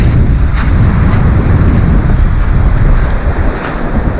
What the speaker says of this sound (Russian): Повернусь спиной к ветру.